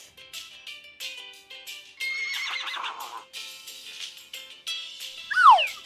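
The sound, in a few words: horse neighing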